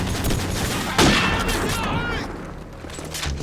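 Gunfire in Call of Duty 4 gameplay: a sharp burst of shots near the one-second mark over a dense, continuous layer of game noise, with a few scattered pops afterward.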